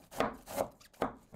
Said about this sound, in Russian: Для первой запеканки кабачок режу очень мелкой и тонкой соломкой.